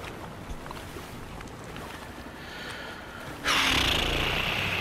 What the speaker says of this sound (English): these boats make sound